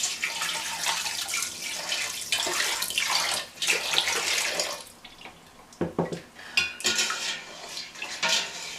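Rhubarb wine carrying undissolved sugar is poured through, a continuous close splashing and trickling of liquid with clinks of vessels, breaking into uneven gurgles near the end.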